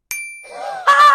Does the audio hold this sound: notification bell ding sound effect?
yes